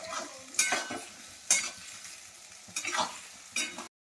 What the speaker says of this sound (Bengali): আমি এগুলো পেঁয়াজগুলো ভেজে নিই